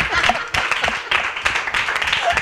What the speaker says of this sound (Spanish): este aplauso para las falleras mayores de Alacuas